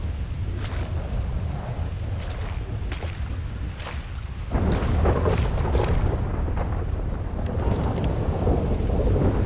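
A thunderstorm with rain rumbles in Grand Theft Auto V, deep rolling thunder under a dense steady hiss of rainfall that grows louder and heavier partway through, with no talking.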